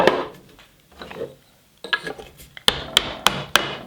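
A tapered wooden peg is hammered into a handmade wooden sitting bench: a few soft knocks and rubbing at first, then four sharp, evenly spaced hammer blows ringing close by.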